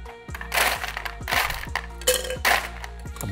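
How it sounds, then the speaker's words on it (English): Ice scooped into a glass for a crape myrtle (banaba) tea drink, several bright clinking, cracking bursts spaced about a second apart over a low steady hum, close and fairly loud. "Ice in the glass."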